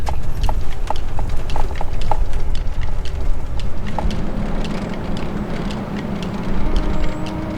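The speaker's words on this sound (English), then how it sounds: "Are those horses?" Wild horse hooves clip-clopping on a hard surface in northeast Oregon, a brisk irregular rhythm of sharp knocks from several animals, fairly close and loud.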